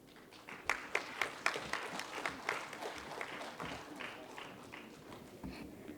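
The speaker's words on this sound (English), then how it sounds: "So a big round of applause for her." A modest audience at an International Women's Day celebration gives a smattering of distinct claps that swell briefly, then thin out and fade, heard fairly faint.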